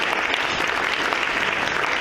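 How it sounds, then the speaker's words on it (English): A dense, steady round of applause from an audience at the 14th Annual Excellence in Cultural Access Awards at Grounds for Sculpture, with clapping filling the whole stretch at an even, sustained level. "Please, another round of applause for our friends here at Grounds for Sculpture."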